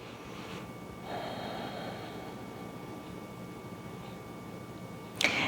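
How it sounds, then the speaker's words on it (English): A single full, deep breath taken during a yoga standing pose: a soft, close airy inhale and exhale over quiet room noise with no talking, ending in a brief sharper sound. "One more full breath."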